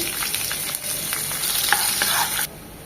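Chopped onion hits hot oil with whole spices such as cloves, giving a bright, steady sizzle with scattered stirring taps that cuts off abruptly near the end.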